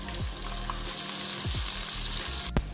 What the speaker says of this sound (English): Fry that till it's light gold.